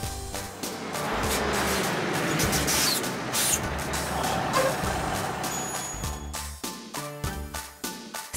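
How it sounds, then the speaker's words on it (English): A tow truck with loud, steady engine rumble throughout, a hiss of air brakes and intermittent reversing beeps near the end, close and continuous with no talk. "Tow truck."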